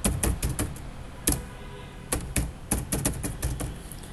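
Typing on a computer keyboard, with sharp, close key clicks coming in small irregular clusters separated by short pauses, over a faint background hiss.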